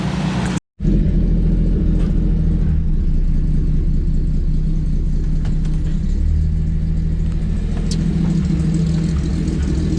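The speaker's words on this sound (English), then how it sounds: "I'm gonna let this thing warm up and then see if it's gonna idle down." A Squarebody truck engine warming up at idle, a loud steady low rumble close by that runs on without a break after a short dropout, with a few faint clicks over it.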